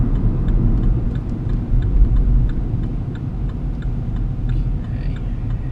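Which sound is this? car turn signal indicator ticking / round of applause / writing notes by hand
car turn signal indicator ticking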